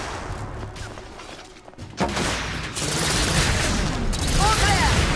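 Sustained suppressive gunfire in The Order 1886, a dense, loud fusillade of rapid shots that begins after a quieter stretch and keeps up to the end, with shouted voices mixed in.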